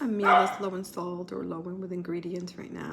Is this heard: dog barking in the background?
yes